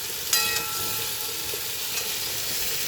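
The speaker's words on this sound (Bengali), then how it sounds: "আমি ঝিঙে আলুটা লাল লাল করে ভেজে নিয়েছি।" Ridge gourd and potatoes frying in a pan, with a steady soft sizzle, a brief stir and a scrape near the start, and no talk.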